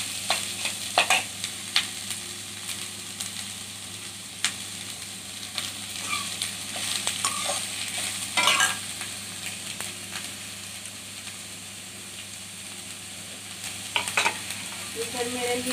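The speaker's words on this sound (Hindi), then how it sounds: "इसको 2 मिनट तक फ्राई करेंगे। ब्राउन होने तक" Banana koftas fry in hot oil with a steady hiss, broken by several sharp spoon scrapes and stirring clatters, one louder burst in the middle, with no talking.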